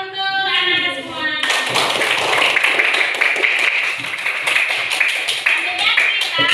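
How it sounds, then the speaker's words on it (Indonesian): Classroom applause for students, a group clapping in a quick, busy rhythm close by, starting after a moment of sung or spoken voices and continuing steadily to the end. "Tepuk tangan untuk anak-anak semua."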